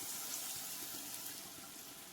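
Water rinsed from a mixie jar, about half a glass, pours into a pan of theeyal curry, a soft continuous gushing splash heard quietly and close, with no talking.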